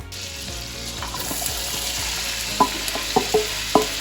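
Chopped celery and onions sautéing in a soup pot for clam chowder, a steady sizzle under intermittent scrapes and knocks of a spoon against the pot, close, no talking.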